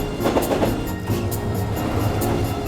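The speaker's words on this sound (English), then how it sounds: "So it's a relief to find a train to take us over the mountain." Train climbing over a mountain in Korea, rhythmic clickety-clack of wheels on rail joints with rumbling carriage noise and faint squeals, steady and close from inside the train.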